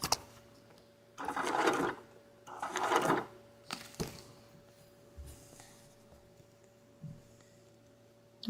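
An embroidery sewing machine stitches a wreath design in two loud bursts of rapid stitching, each about a second long, followed by a few softer clicks and short whirs against a steady low hum.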